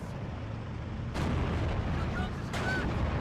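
World War II battle gunfire from Steel Division 2 as a unit comes under attack from Panzer Pioneers: a dense, continuous rumble of shots and distant blasts, with two stronger bursts cutting through.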